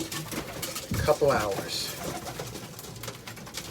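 A newborn pigeon, only hours old, gives soft cooing calls at feeding time, a short cluster of close chirps around the middle, with a person talking over it.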